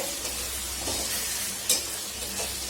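A ginger and garlic spice masala fries in a pan with a steady loud sizzle, broken by a few stirring scrapes.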